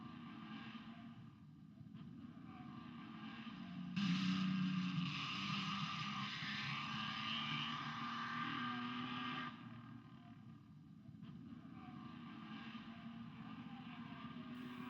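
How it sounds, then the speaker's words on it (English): Supercharged, transversely mounted Climax engine in a Fairley race car climbing a hill at a 1959 hill climb, a steady mid-distance drone that swells louder for several seconds before easing back to a constant hum. "Reg Phillips in the Fairley Climax. The engine is mounted transversely across the frame and it's supercharged."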